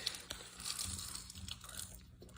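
A pet crunching food close to the microphone: quiet, irregular bites and crunches over a couple of seconds with no talk over them.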